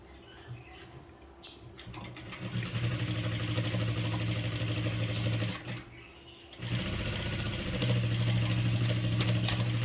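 An electric sewing machine stitching a readymade blouse being altered, running in loud steady whirring bursts close by, pausing briefly between runs of stitching.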